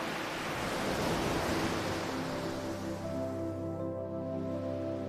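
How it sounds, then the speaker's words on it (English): Ocean surf washes steadily onto a beach, a continuous broad rushing roar of breaking waves with low rumble, loud and close throughout with no voices. "Now imagine the waves gently washing over your feet."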